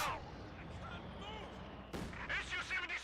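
Mortar fire in the World War II strategy game Company of Heroes 2: a heavy boom opens, then a second sharp blast with crackling debris, over a steady bed of battlefield rumble.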